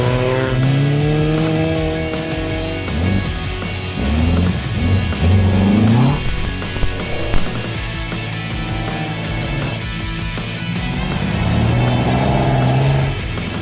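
A Porsche 912 rally car drives on snowy roads at a winter sliding event. The engine revs loudly and rises and falls as the car passes, with occasional tire squeal and no voices.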